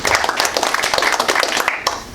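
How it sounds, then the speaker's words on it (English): A crowd at a fire police training session breaks into applause, a dense, steady patter of many hands clapping close by for a couple of seconds. "Give a round of applause."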